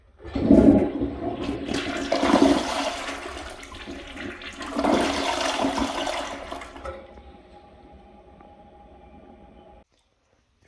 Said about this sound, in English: Now let's hold the handle down and use most of the tank.